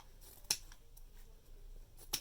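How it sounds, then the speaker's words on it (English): Scissors snip small V-shaped notches: two quiet, crisp cuts about one and a half seconds apart, with faint room noise between them and no talking. "after we cut our cute little V cuts"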